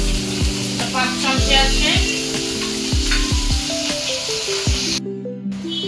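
Whole black peppercorns and onion paste frying in hot oil left from fried fish for a Bengali pepper fish dish: a constant loud sizzle and spatter running under a person talking.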